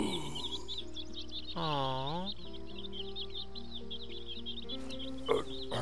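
Birds chirp and twitter steadily in a calm outdoor scene in the game Last Day of June, with a rising-and-falling croaking call and a brief sharp pop partway through.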